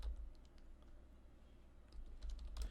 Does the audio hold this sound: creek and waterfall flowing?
no